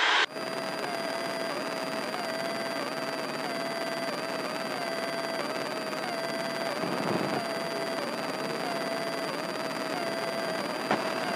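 Piper Cherokee light airplane engine droning inside the cabin, a loud steady hum with constant tonal whine and broadband roar for the whole stretch, with a brief rustle midway.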